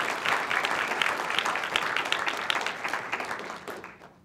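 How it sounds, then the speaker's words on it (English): An audience at a community history event breaks into dense, sustained applause, many hands clapping at once in a steady roar that thins out and fades in the last half second. "so that deserves a round of applause."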